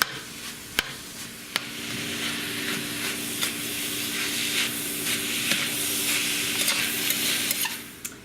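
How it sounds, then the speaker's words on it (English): Ground pork sizzles steadily in a hot pan while being stirred for Dan Dan noodles, a continuous close frying hiss broken by a few sharp scrapes and clicks of the utensil against the pan. "we'll stir that through and make sure it's all combined in with the pork"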